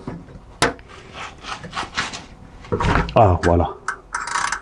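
A wrench extended with a second wrench loosens the tensioner bolt on a PT Cruiser 2.2 CRD engine, giving scraping, creaking metal strain and a sudden release, close by, with someone talking briefly.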